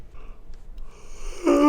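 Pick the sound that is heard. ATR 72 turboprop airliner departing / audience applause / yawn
yawn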